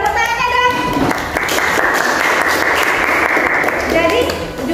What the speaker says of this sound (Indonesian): pintar sekali, tepuk tangannya dong